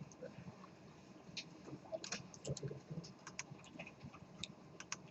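Someone types on a computer keyboard while writing a program in a classroom, with quick, irregular clicks and taps at close range and a low murmur of voices underneath.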